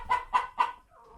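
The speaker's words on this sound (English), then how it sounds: "She's telling us to beat it so she can lay an egg." A hen clucks three times in quick, even succession before laying an egg, close and fairly loud, followed by a softer low murmur.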